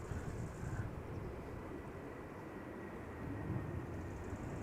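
Airliner taking off at Amsterdam Schiphol Airport bound for Oslo Gardermoen, a steady broad jet roar heard at some distance, fairly faint and constant throughout.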